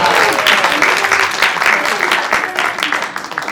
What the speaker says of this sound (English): Let's clap for Chandigarh.